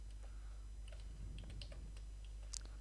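Typing on a computer keyboard, a few scattered soft key clicks over a steady low hum, brief and close.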